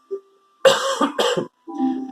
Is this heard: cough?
yes